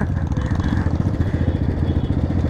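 A motorcycle engine during enduro-style off-road riding runs loud and close, with a rapid, throbbing pulse and rattly clatter that stays steady for a couple of seconds.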